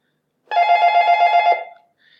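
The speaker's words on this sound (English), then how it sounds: "It's just my phone." A mobile phone ringtone plays once, a loud steady melodic ring lasting about a second before cutting off, with only a faint trace of sound afterward.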